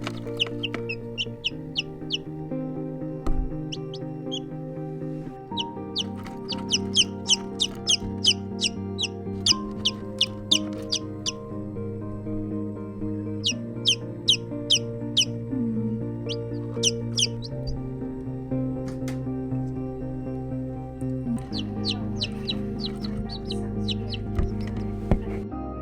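Newly hatched chicks in an egg incubator on a Finnish homestead peep in repeated high, bright bursts over a steady low machine hum, the calls coming in clusters and fairly close throughout.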